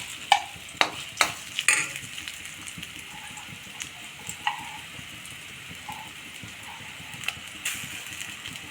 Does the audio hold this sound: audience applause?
no